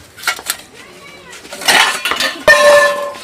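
Metal pots, dishes and utensils fall and clatter in a household kitchen, several sharp ringing crashes and jangles in quick bursts, the loudest near the end.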